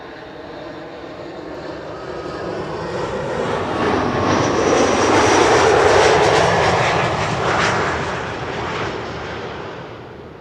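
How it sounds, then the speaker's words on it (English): A KLM Embraer 175 jet arriving at Schiphol on runway 06 roars past, its engine noise building from a distant rumble to a loud whine and hiss at its nearest, then fading away. "Embraer 175. Arriving from Chester up next."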